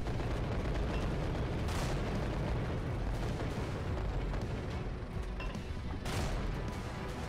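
Tank cannon fire in the video game Infinite Tanks, a dense roaring blast that fills the whole clip, with sharper reports standing out near the two-second and six-second marks.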